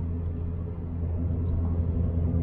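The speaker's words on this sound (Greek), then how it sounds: "γιατί το αυτοκίνητο κάνει θόρυβο." Steady low engine drone and road rumble heard from inside a moving car, continuous and fairly loud throughout with no talk.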